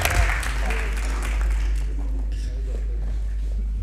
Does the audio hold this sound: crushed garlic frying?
no